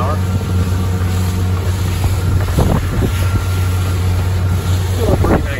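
A Carolina Skiff 23LS boat engine running at 2,700 RPM on Lake Worth, a loud steady low drone with heavy wind rush and water noise, and someone talking over it.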